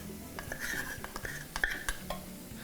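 Milk being whisked into a flour sauce for cauliflower mac and cheese, with quick light clinks and scrapes of a whisk against the pot in a soft, close, uneven rhythm.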